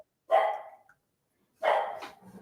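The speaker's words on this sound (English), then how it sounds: "Are you this dog barking coming through?" A dog barks twice, close and sharp, with a pause between the two barks.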